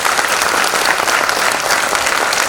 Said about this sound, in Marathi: सगळ्यांनी एकदा मोठ्याने टाळ्या वाजवायच्या